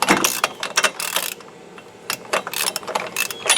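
Socket wrench loosening a spark plug on a Kawasaki engine in an EZGO golf cart, a quick run of close, sharp ratchet clicks in short bursts with brief pauses between, no voices.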